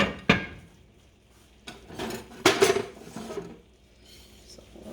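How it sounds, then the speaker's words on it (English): Potato mixture being spooned into a spicy Spanish omelet mix, with a few sharp metallic spoon clinks and scrapes against a bowl amid quieter shuffling, close and alone. "I'm going to spoon this into my mix"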